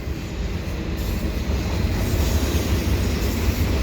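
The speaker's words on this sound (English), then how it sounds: "this part of the train is a stacked train" A Canadian Pacific eastbound mixed freight and stack train rolls past at Dorval, with a loud, continuous rumble of wagons and wheels on rails close by.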